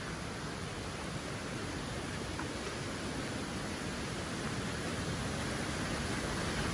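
A tiny rainforest waterfall about a metre high, Gully Falls on the Albert River Circuit in Lamington, gives a soft, steady rush of falling water, a constant broadband hiss with no voices over it.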